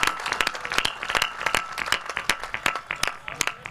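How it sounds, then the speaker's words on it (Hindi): Audience at a Hindi kavi sammelan poetry gathering in Pratapgarh clapping, a run of sharp, irregular nearby hand claps that stay steady through the whole stretch with no voices over them. "अब जो बैठे हुए लोग हैं वो एक बार जरा मुझे ताली बजा"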